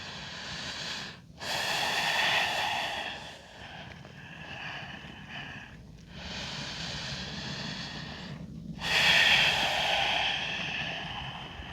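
During yoga practice, slow deep breaths come in long audible waves, rising and fading several times, close and fairly quiet with no talking.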